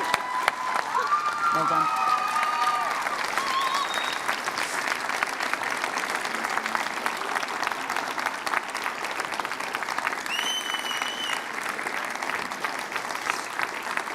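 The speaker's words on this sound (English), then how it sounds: "Let's give her another massive round of applause." Sustained audience applause fills a school prize giving hall, steady and dense throughout, with a brief spoken congratulation and faint cheering near the start.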